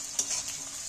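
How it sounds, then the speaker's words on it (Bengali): Chopped onions being stirred as they fry in oil, a continuous bright sizzle with a brief scrape of the spoon near the start, close, no speech. "কুচনা পেঁয়াজগুলোকে একটু নাড়াচাড়া করে তেলের মধ্যে"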